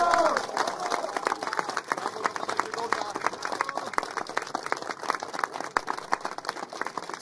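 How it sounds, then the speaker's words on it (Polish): Crowd applause for MP Grzegorz Braun, dense continuous clapping with cheering mixed in, steady and fairly loud throughout, with voices in the crowd. "Wielkie brawa dla posła Grzegorza Brauna."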